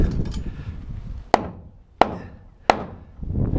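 Three sharp hammer blows drive nails to refasten a wooden board, evenly spaced and close, each a crisp crack that rings out briefly, with low rustling handling noise before and after.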